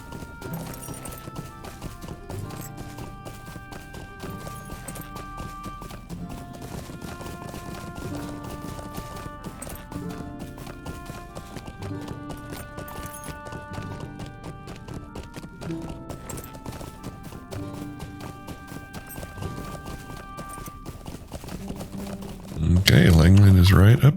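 Horse hooves clip-clopping steadily during a nighttime ride through Bree in Lord of the Rings Online, a continuous rhythmic trot under background music, ending in a louder rumble.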